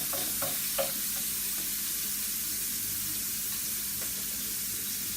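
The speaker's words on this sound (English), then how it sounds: "Mix that up." Chicken curry gets stirred in a hot pan on a hob, a soft steady sizzle running throughout with a few quick scraping strokes near the start and another later, no talk.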